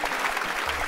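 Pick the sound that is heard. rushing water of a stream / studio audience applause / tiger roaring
studio audience applause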